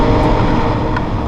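A Massey Ferguson tractor with a hydrostatic transmission builds up power under load. The engine runs steady and loud, a constant rumble that fills the short clip.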